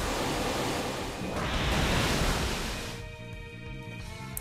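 Waterfall attack effect from the video game Pokémon X: a loud rushing, surf-like wash of noise that swells, then cuts off into a quieter tonal tail.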